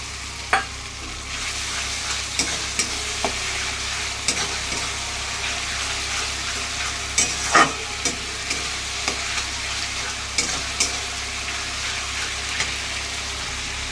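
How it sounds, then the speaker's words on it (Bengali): Ginger-garlic paste sizzles in a pan with browned onion paste for a mutton and potato curry. A steady, close frying hiss runs throughout, with sharp spits and stirring scrapes and no voices. "পেঁয়াজ বাটাটা আমার একটু ভাজা ভাজা হয়ে গেছে। এরপর আমি দিয়ে দিচ্ছি আদা রসুনের পেস্ট।"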